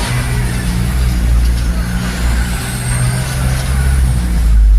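Heavy road traffic at Lawang Bato, Valenzuela, with cars and trucks rumbling steadily nearby, deep engine drone throughout and louder revving toward the end.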